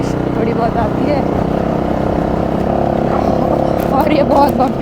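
Motorcycle engine droning steadily as the bike rides over a bumpy road, close and loud throughout, with rattling and wind noise mixed in.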